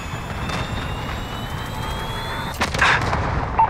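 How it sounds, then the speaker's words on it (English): A cruise missile strike in Call of Duty Modern Warfare (2019) lands as a sustained rumbling barrage with a sharp blast near the end, loud and dense, with no voices over it. "Allied cruise missile launched."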